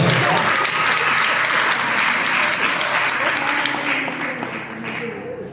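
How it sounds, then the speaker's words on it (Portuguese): A church congregation applauds during a family celebration service, with dense, steady clapping from a large crowd that fades slightly toward the end. "Uma salva de palmas para todas as sogras hoje aqui."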